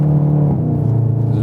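A Volkswagen Golf R 7.5 engine holds a steady low drone under light throttle while the car drifts on ice with loose snow, close and loud, and someone talks over it.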